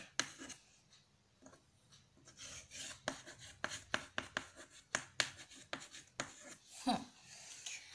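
Pen scratching on paper while working through a maths problem, a close, quiet run of short irregular strokes and taps with brief pauses between bursts.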